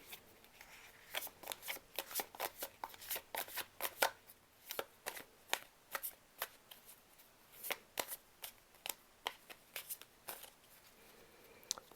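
Tarot cards being shuffled in quick repeated riffles, crisp snapping bursts in an uneven rhythm, close and fairly quiet with no voices.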